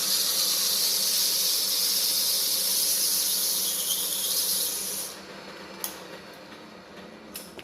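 Craftsman yard tractor starter spinning against 80 grit sandpaper, a loud steady high-pitched whine and hiss that drops away after about five seconds, leaving faint rubbing and a few sharp clicks.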